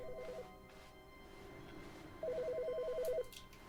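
A telephone ringing in The Stanley Parable video game: two bursts of an electronic trilling ring, a short one at the start and a longer, louder one later, over quiet room tone.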